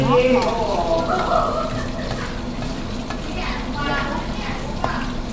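Steady sizzling of oil in a hot pan, a continuous crackling hiss throughout, with people talking over it.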